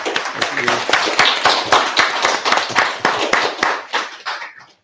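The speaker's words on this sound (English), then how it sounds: "I just want to say another huge round of applause, another very impressive app." Applause from the audience at a coding bootcamp's graduation showcase, many hands clapping steadily and close for several seconds before fading out at the end.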